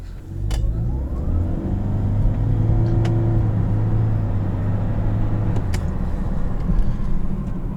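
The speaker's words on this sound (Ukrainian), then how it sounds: "зараз ми дивимося динаміку, як розганяється вона саме на газу" A Toyota Corolla hybrid running on LPG accelerates with a steady, low engine rumble and road noise, heard from inside the car without speech.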